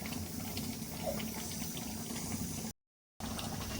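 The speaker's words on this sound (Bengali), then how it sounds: "জলটা দিয়ে দেওয়ার পরে টকবক করে ফুটছে" Water boiling hard in a covered cooking pot of potatoes, a steady dense bubbling and rumbling close by that runs without break apart from one short silent gap.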